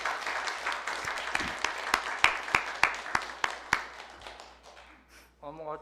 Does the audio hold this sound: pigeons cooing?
no